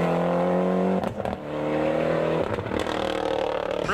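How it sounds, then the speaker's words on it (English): Ford Escort Cosworth rally car at an Irish rally in Monaghan, its engine droning loud and steady, with a brief dip and scraping clatter as it runs off the road, then the engine pulling hard again. "Ivan Stewart's Escort Cosworth was an early pace setter in Mayo, but not here in Monaghan, as this little excursion cost him vital seconds."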